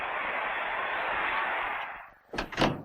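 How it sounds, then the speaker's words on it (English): A door swings shut in a tense 1950s crime-drama scene, two quick close thuds landing after a steady hiss of background noise fades out. "Shut the door."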